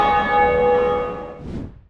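A large bell in Dark Souls tolls once, loud and close, its bright ringing harmonics decaying over about a second and a half before a soft low rumble closes it, with no speech.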